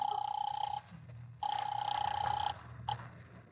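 An old-fashioned telephone bell rings in two long bursts followed by a short clipped ring, loud and close, with a low hum underneath.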